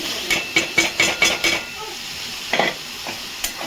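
Fried potatoes meant for chitol fish muitha are tipped into a pan and stirred, giving a series of close, rhythmic scraping and clattering strokes over a faint sizzle, with short pauses between bursts.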